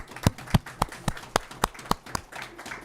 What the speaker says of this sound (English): Can we all give ourselves a round of applause for this agreement?